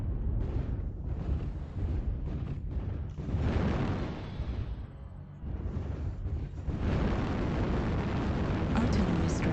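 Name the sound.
airstrike explosions in video game MechWarrior Online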